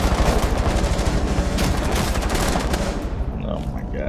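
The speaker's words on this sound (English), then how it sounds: "Me as I'm shooting." Rapid gunfire in the tactical shooter Rainbow Six Siege during a Secure Area team deathmatch on the Border map, dense and sustained bursts up close for about three seconds before fading, with a voice briefly heard.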